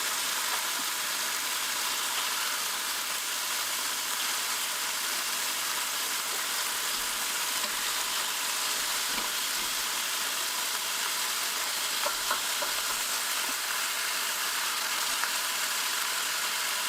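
Beef slices for bistek tagalog frying in a pan over medium-high heat give a steady, even sizzle and hiss that runs unbroken for the whole stretch, with a few faint pops and no talking.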